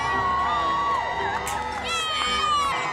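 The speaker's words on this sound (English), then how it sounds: "make some noise and cheer your champions on to victory!" Festival crowd at a wizard-themed event on a heritage railway cheering, whooping and shouting together, with children's high voices prominent; a steady, fairly loud mass of excited voices through the whole moment.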